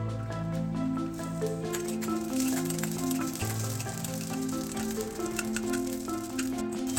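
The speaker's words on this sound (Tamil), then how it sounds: "எண்ணெய் நல்லா சூடானதுக்கப்புறம் நம்ம எடுத்து வச்சிருக்கிற நிலக்கடலை போட்டுக்கலாம். நல்லா வறுத்துக்கங்க." Peanuts and garlic fry in hot oil for a Tamil vada pav chutney powder, a continuous dense sizzle and crackle heard alone under a steady droning background.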